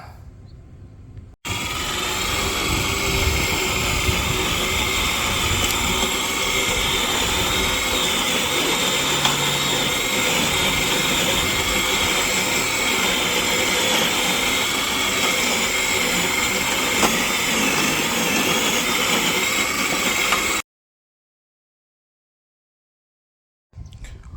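A YardForce lawn mower runs with a steady, dense motor whir that starts abruptly, holds constant for about twenty seconds, then cuts off to silence.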